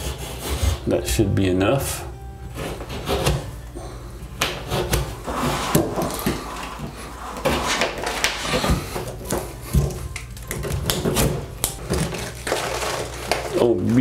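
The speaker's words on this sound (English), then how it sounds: "we're gonna have to cut this out so we can reach in there and push the wire through" Drywall is cut out during a bathroom vanity light repair, giving close, irregular scraping, rasping and crunching strokes over the whole stretch, with a brief spoken remark near the start.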